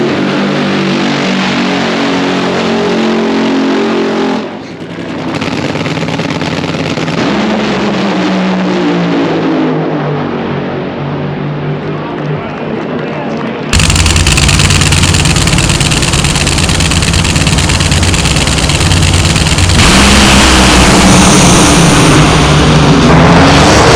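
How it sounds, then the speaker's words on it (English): A drag racing dragster's engine on the starting line runs loud and close for the whole stretch, a steady heavy rumble that jumps abruptly to a fuller, harsher roar about halfway through. "we're up here on the line for the round one with the dragster"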